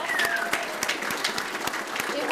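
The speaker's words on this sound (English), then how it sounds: "they deserve a huge round of applause" An audience at a graduation and celebration ceremony gives a short round of applause, with dense, even clapping close by and a voice faintly present beneath it.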